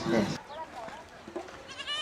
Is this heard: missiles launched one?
no